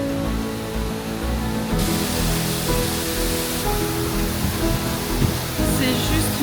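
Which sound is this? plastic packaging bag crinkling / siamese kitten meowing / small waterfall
small waterfall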